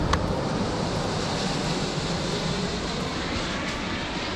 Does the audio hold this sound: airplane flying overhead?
yes